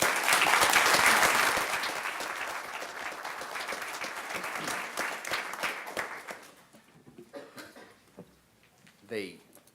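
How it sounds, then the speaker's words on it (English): Big round of applause at a tribal council meeting, loud dense clapping that swells at first and gradually fades out, with some voices and coughs beneath and a quieter tail near the end. "I'd like to give them a big round of applause for that"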